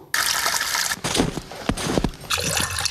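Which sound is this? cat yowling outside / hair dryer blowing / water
water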